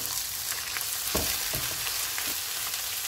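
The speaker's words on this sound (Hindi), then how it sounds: "प्याज फ्राई हो गए हैं, इसमें अदरक और लहसुन का पेस्ट डालेंगे।" Onions with ginger garlic paste fry in a pan, giving a dense steady sizzle with a few scraping stir strokes, close and continuous with no talking.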